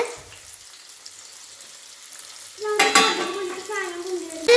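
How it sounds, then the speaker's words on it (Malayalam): Broasted chicken fries in hot oil at home, starting as a faint low hiss and then bursting into a loud, crackling sizzle with some clatter as pieces move in the pan. "അപ്പൊ ഫ്രൈ ചെയ് ഫ്രൈ ആയിക്കൊണ്ടിരിക്കുകയാണ്"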